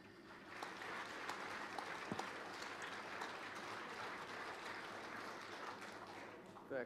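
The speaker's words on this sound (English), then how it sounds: "I see by your applause what you think about this presentation" An audience at a plenary discussion on the Russian economy applauds, a fairly faint, even wash of many hands clapping at a distance, steady throughout with a slight swell at the very end.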